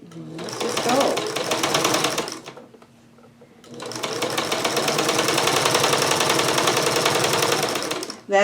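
A sewing machine stitches a quarter-inch seam in a quilt with a rapid, close mechanical whir. It runs in two bursts with a short pause between them and a voice speaking over the stitching.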